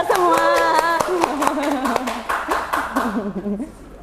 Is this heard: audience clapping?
yes